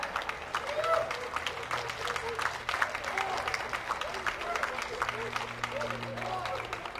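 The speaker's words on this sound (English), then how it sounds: "Let's give both these teams a great big round of applause for a fantastic match" Outdoor crowd applause for two rugby teams after a USA Rugby Division II championship match between Wisconsin and Rocky Gorge, steady clapping spread across a field with background crowd murmur and faint voices throughout.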